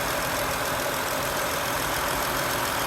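A 2017 Chrysler Pacifica engine idling after a coolant refill with the heater on, a steady even drone with a faint mechanical rattle, close and continuous with no talk.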